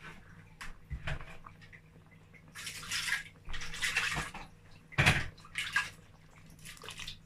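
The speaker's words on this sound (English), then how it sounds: "I'm going to add a little bit of water." Water splashes into a pot of okra soup in several short pours, with brief gurgles and a knock of a vessel between them.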